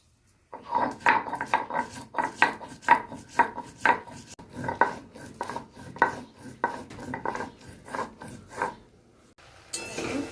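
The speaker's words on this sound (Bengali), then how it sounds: "আমি সর্ষেটা বেটে নেব।" Mustard seeds being ground into paste in a home kitchen, with a steady run of rhythmic, scraping, knocking strokes of stone or utensil, fairly close and moderately loud, ending with a brief rustle.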